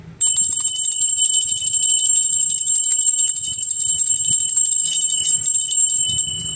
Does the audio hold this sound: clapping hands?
no